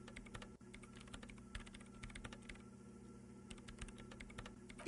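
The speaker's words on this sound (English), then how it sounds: "Her hands typing hundreds of commands into the machine." Rapid, continuous typing on a computer keyboard fills the scene in the Disco Elysium video game, a dense patter of faint key clicks with no talk.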